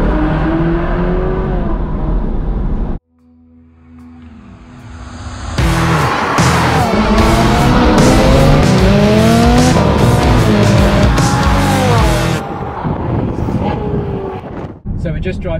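Ferrari 458 sports car on the road, its engine revving and accelerating loudly for a long stretch after a quieter opening, then dropping back toward the end.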